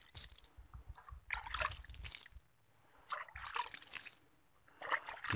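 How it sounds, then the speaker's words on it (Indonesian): Water poured from a can onto small dwarf plants in a seedbed, in two bursts of soft trickling and splashing with a short pause between them, close and moderately quiet. "Kita siram ke tanaman kita. Kita nyiramnya secara merata"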